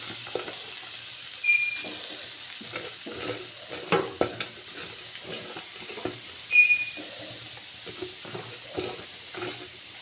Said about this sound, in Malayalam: എണ്ണയിലേക്ക് ചേമ്പിൻ തണ്ടരിഞ്ഞത് വഴറ്റി